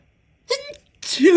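A person sneezes up close, in two short bursts: a quick explosive one, then after a pause a second that rises into a high-pitched squeal.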